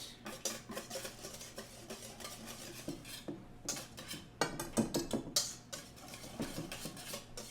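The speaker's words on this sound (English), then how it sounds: "we got that all whisked up" A whisk or utensil beating yogurt in a bowl, giving rapid, rhythmic clinking and scraping strokes in quick close bursts with short pauses.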